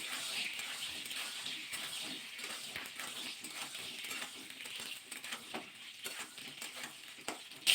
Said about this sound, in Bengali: ওই তেলের মধ্যে পটলটা দিয়ে ভাজা করে নেবো